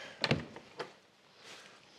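An old door in an abandoned 1970s house is pulled open, giving a quiet thunk and a brief scrape, then a second softer knock, in a hushed interior.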